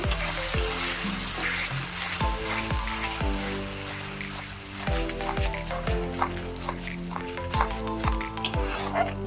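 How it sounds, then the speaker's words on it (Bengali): Ground tomato is stirred into spices frying for a mushroom curry, making a continuous sizzle broken by repeated scraping strokes of a spoon against the pan, with a tonal hum running underneath. "এর মধ্যে টমেটো বেটে রেখেছিলাম সেটা দিয়ে দেব। দিয়ে ভালো করে আবারও কষিয়ে নেব।"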